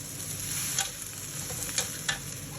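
Chinese kale stir-fried in a hot wok, a continuous close sizzle with three sharp scrapes of the spatula against the metal spaced about a second apart.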